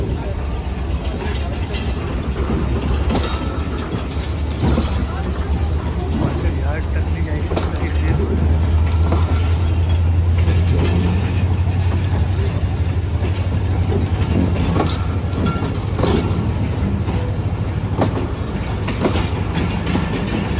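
The Khushal Khan Khattak Express runs out along the main line, a loud steady rumble of rolling wagons with a rhythmic clickety-clack of wheels over rail joints, heard up close for the whole stretch.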